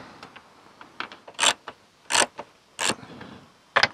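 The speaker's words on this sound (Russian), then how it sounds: "Для начала запасаемся головкой на 10 и ручным воротком." Roof rail bolts on a Nissan Pathfinder undone with a 10 mm socket on a hand ratchet: a series of short, close metallic clicks and ratcheting bursts, irregular and spaced, with brief louder rasps between quieter ticks.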